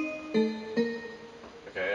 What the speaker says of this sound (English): So I just got a bell that sounds like this.